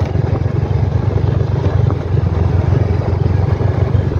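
Steady drone of a motorcycle engine while riding at night, continuous and close with a constant rumble and no speech.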